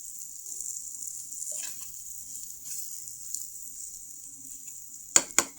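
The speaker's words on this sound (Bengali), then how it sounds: "কাঁচামরিচ পেঁয়াজও দিয়েছি। তখন মশলা কষানো হচ্ছে।" Onion, green chili and spices sauté in a pan with a faint, steady high hiss, then a few sharp utensil clinks against the pan at the end.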